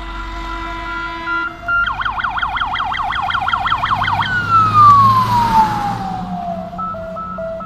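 A fire brigade vehicle's siren sounds loud and close, first in a rapid warbling wail that then slides downward in a long falling tone before a short steady note, with traffic noise beneath.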